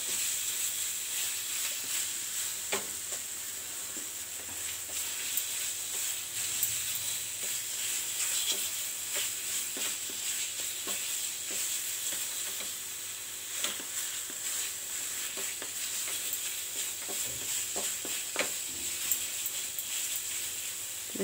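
Sugar is stirred into a thinning batter for khoa-free peda over medium flame, a steady soft sizzling hiss broken by irregular scraping clicks of the spoon, with no voices.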